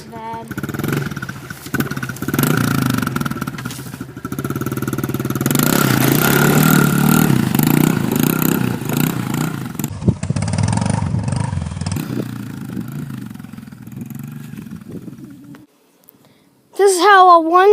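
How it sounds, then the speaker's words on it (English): A 110cc dirt bike ploughs through a mud hole about two feet deep. Its engine stays loud and steady, rising into a strained, revving drone, then cuts out abruptly near the end as a voice speaks over it. "This is how a 110cc gets through a mud hole."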